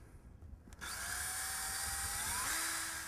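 A power drill whines steadily for about two seconds as it drives a toenailed fastener through a 2x4 into a wooden hoop pen frame, its pitch shifting and rising near the end, close and loud after a brief rustle.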